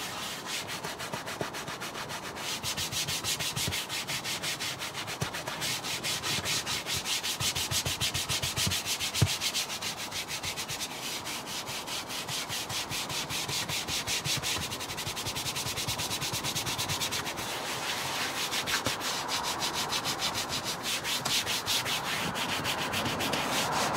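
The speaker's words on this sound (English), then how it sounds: "thoroughly scrubbing it into the grain with the brush using a combination of linear and circular motions" Brush scrubbing cleaner into the grained interior of a Bentley Turbo R, a close, steady scratchy rubbing in quick repeated strokes lasting throughout, with no voices.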